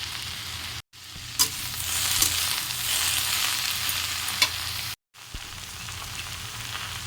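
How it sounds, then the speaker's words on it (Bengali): Shredded cabbage fries in a pan with a spoonful of ginger paste, giving a continuous close sizzle with occasional scraping stir clicks, broken twice by brief moments of silence. "বাঁধাকপিটা যে ভাজা ভাজা হয়ে যাবে এতে অ্যাড করে দেবো 1 চামচ আদা বাটা"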